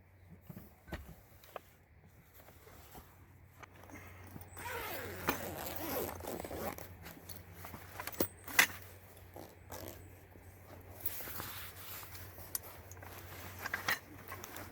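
Hi-Lift off-road jack being drawn from its storage case behind a vehicle's front seats: close zipper rasps and soft fabric rustling, with light metallic jingles and scrapes in short bursts, no talking.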